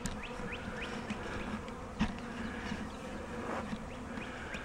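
A dense swarm of honeybees hums steadily up close while a bee package is installed into a hive, with individual bees zipping past and a brief knock partway through.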